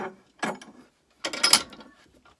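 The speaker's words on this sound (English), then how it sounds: "So I just lock that in my vise." A bench vise being tightened by hand on a scrap wood block, two short bursts of ratcheting, clicking metal turns separated by a brief pause, close and fairly loud with no talking.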